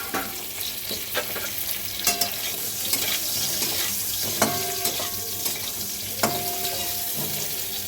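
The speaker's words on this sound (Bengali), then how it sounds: "এই তেলেতেই আমি ফুলকপিগুলোকে ভেজে নেব।" Cauliflower florets frying in hot oil in a kadai, giving a steady, close sizzle with occasional clinks and stirring noises throughout.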